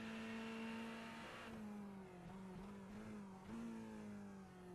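Onboard Ferrari race car engine on a road course, a steady high-revving drone that dips as the revs fall, then climbs again through the gears, loud and alone with no talk.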